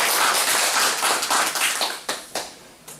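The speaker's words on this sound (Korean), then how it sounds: "박수" An audience at a lecture on Gaya-period history in Changwon breaks into brisk, close clapping that dwindles into a few scattered final claps over about three seconds.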